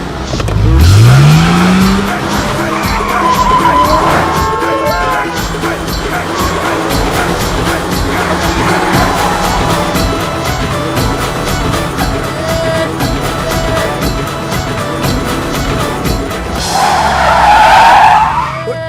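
A car driven hard with tires skidding and squealing, a sharp rising screech at the start and again near the end around a loud, steady engine roar, with some voices mixed underneath.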